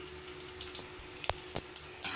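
Hot oil sizzling as mustard seeds crackle, with sharp, scattered pops and a few louder snaps standing out, close by and with no talking.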